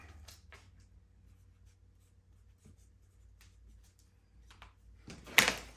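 A Sharpie marker writing a date on an oil change sticker for a Honda EU2200i inverter generator, heard as faint, close squeaky strokes in short bursts, ending with a louder handling knock.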